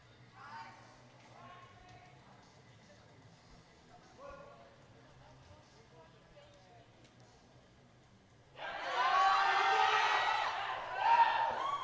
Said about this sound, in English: so of course the crowd is going crazy